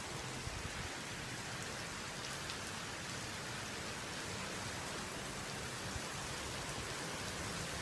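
Steady, dense hiss of heavy rain falling outdoors during a rainstorm, a constant wash of drops on surfaces with no voices over it.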